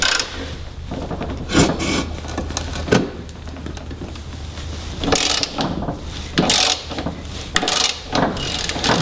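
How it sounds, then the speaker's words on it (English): A wrench ratcheting against the blade bolt of a lawn mower, giving close, loud clicking and scraping bursts separated by short pauses, with no talking. "So now when I apply pressure onto the bolt here to remove it"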